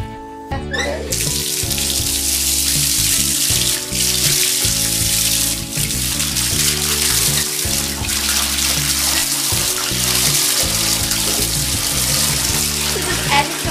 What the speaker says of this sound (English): I just clean the tub with bleach, the Ultra Bleach, and with a regular sponge.